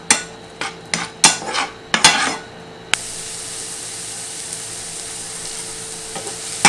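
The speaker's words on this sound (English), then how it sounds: "we're going to take our diced onion and dump that in there. And we're just going to cook it down till it's nice and fragrant" Diced onion hitting a hot pan and sizzling, with a few stirring scrapes and clatters of a utensil at first, then a steady, fairly loud frying hiss that carries on alone.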